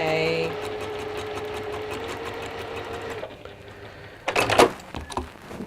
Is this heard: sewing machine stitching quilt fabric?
yes